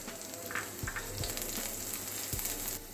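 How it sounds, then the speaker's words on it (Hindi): Green chillies and garlic sizzle in a hot pan, a steady close hiss of frying with a few soft stirring taps, no voices. "पैन गरम हो चुका है। अभी हम लहसुन डालेंगे"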